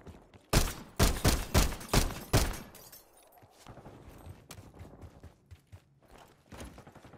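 Gunfire in the multiplayer shooter Call of Duty Black Ops 6: a loud run of rapid, close shots in quick bursts, then quieter scattered shots and thuds further off.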